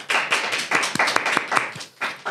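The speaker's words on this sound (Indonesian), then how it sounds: "Dan boleh minta tepuk tangan untuk Berlin" Short burst of audience clapping for a podcast guest in a studio, a few uneven bursts of hand claps, fairly close and moderately loud, with a brief pause before a final flurry.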